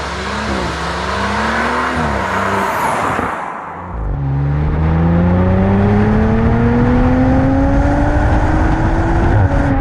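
A 2.9-litre V6 in an Audi RS4 revs hard nearby, its rising engine note climbing steadily after a brief dip and lift-off, loud and alone with no talking.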